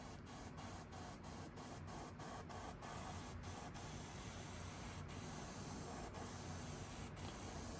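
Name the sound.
spray painting a custom fishing lure through stencil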